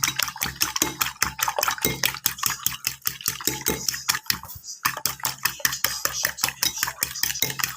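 Eggs, three of them, beaten by hand in a bowl for a mustard-greens and egg breakfast dish, giving a fast, steady clatter of utensil against the bowl with one brief pause midway.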